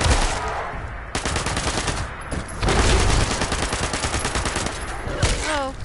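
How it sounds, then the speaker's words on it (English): A submachine gun fires in the video game Fallout 76, with loud, sustained rapid bursts that run almost without a break, close and dense, with a short gap about a second in. "SMG up."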